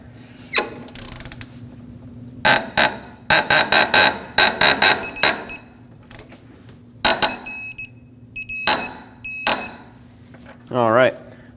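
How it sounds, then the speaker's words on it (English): Mounting nut and built-in washer on a front lower ball joint stud of a 2006-2015 Lexus IS250 scrape and chatter against the aluminum control arm while being torqued, in repeated short ratcheting bursts with pauses, close and fairly loud. "that noise you're hearing is the nut and this built-in washer hitting up against the aluminum"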